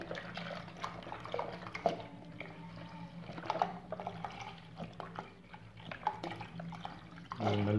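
A liter of milk is poured for a Turkish muhallebi, a soft continuous liquid gurgle with dripping detail, close and fairly quiet.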